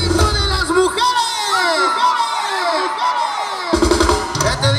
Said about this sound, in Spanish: ¡Uno, dos, tres! ¡El grito de las mujeres!